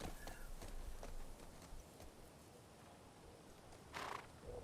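Video game horse sounds, faint clip-clop hoofbeats and a brief whinny-like burst near the end, quiet under a soft steady background hiss.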